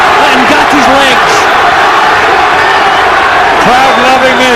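A boxing arena crowd roars steadily and loudly through a bout between Arturo Gatti and Carlos Baldomir, with whoops rising from the dense cheering while an announcer talks over it.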